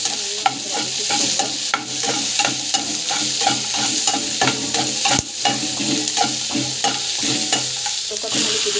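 Garlic sautéing in a pan for a chutney, with steady frying sizzle under repeated rhythmic spatula scrapes and stirring knocks, close and continuous throughout.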